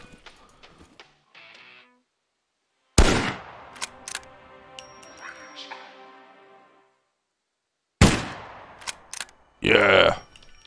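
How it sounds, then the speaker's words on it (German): Firearm shots from the survival video game SCUM: a sharp loud report at about three seconds with a ringing tail, then another burst near eight seconds and a third near ten, separated by quiet stretches and faint game ambience. "Oh, mein erster Schuss, mein erster Schuss."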